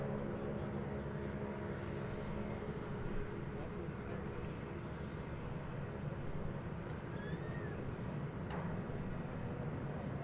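American Airlines airliner on flight 1068 from Cancun arriving at DFW Airport, a steady broad engine roar held throughout at moderate distance, with people talking over it.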